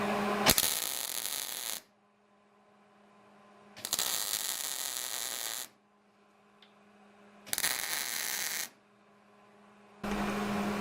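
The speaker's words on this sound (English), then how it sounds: "I'm going to go back here on the back side and do a couple tacks on the 1/8 inch side." A MIG welder tack-welds 1/8 inch steel in three loud crackling bursts of about two seconds each. Low electrical hum fills the quiet gaps between them.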